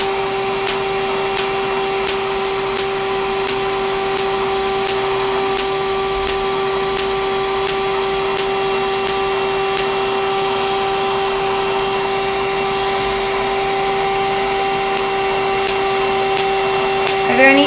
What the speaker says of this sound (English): This is the Aerolase Era device.